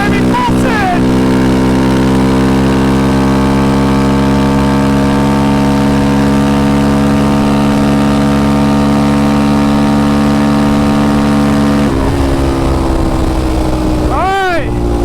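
A Yamaha Raptor 700 ATV engine running on VP 110 race fuel roars loud and close at a steady high pitch, pulsed at three-quarter throttle, with a brief dip and rise in pitch near the end.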